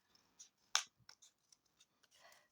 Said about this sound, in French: on est sur un rond qu'on va découper en carton